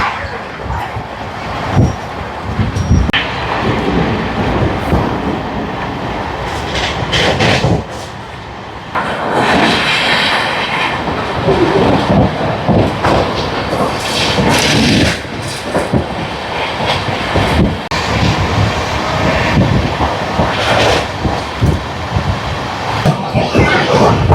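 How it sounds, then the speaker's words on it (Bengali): A train runs at about 110 km/h after leaving Bandel, heading toward Shaktigarh and Bardhaman, giving a loud, unbroken roar and rattle heard from inside a carriage, with a brief dip partway through. "দ্রুত গতিতে এগিয়ে চলেছে আমাদের ট্রেন আমাদের গন্তব্যের উদ্দেশ্যে"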